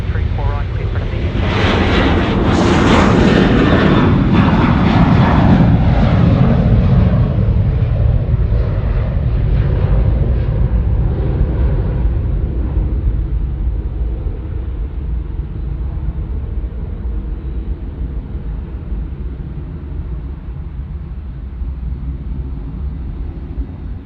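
A Qantas airliner takes off from Sydney's runway 34 right, its loud, deep engine roar surging to a peak and then slowly fading as it departs, with a voice talking over it.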